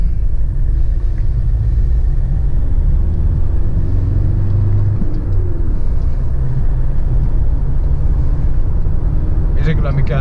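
A 2009 Toyota Hilux with a 2.5 diesel engine pulls away from a light and drives on, a loud, steady low engine rumble heard from inside the cab, with someone talking throughout.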